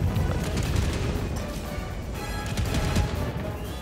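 Rapid gunfire from the video game Helldivers 2, a dense continuous barrage of shots and booms, loud and sustained throughout with no talk.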